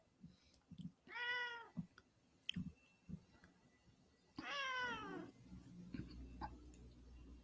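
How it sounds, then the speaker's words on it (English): A pet cat at home gives two clear, drawn-out meows a few seconds apart, close and fairly quiet, with soft background sounds in between. "Look at my cat."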